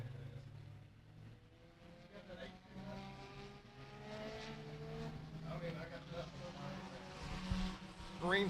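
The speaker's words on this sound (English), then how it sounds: "First set of SCDRA four-cylinder cars on the track" SCDRA four-cylinder race cars at Beckley Motor Speedway rev and rise in pitch as they run on the track, engines droning steadily at moderate distance with a voice talking over them.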